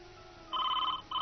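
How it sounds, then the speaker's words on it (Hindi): A telephone rings in an indoor domestic scene, two loud electronic ring bursts close by with a short gap between them, no voices. "लो, फिर फोन आ गया।"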